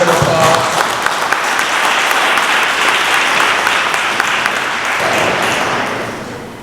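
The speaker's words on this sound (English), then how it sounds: "So I think that deserves a round of applause." An audience at a Vietnam Veterans Day ceremony breaks into loud, sustained applause, dense clapping filling the room before tapering off near the end.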